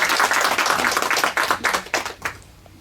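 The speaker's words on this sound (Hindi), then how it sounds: "एक बार जोरदार ताली हो जाए हमारे ग्रैंड फिनाले के लिए।" Audience applause at the grand finale of a junior TV quiz show, a burst of many hands clapping loudly that thins and fades out over a few seconds, with no talking.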